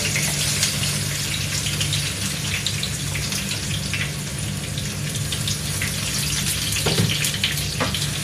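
Garlic sizzling in hot oil in a pan, a steady crackling fry that runs continuously throughout, close and fairly loud, with a couple of faint clinks.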